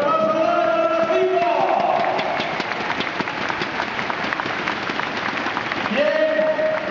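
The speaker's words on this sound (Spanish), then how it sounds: "¡Un aplauso para los 5!" Audience applause at a trial bike exhibition in an indoor pavilion, loud sustained clapping from a large crowd with shouting voices over it at the start and end.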